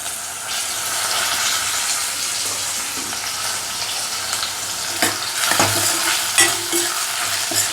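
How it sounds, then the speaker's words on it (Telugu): Dried fish fry in hot oil in a pan with a steady, loud, close sizzle, stirring scrapes and clatters breaking through near the end, and no talking. "ఇవి ఒక టూ మినిట్స్ ఫ్రై అయిన తర్వాత టమాటో యాడ్ చేసేద్దాం"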